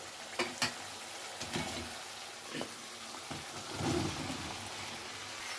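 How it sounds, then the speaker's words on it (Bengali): Boiled young jackfruit tipped into hot spice paste that has released its oil, giving scattered sizzles, spatters and stirring scrapes at close range, a few sharp crackles early then a steady frying hiss. "এবারে দিয়ে দেবো সেদ্ধ করে রাখা এঁচড়"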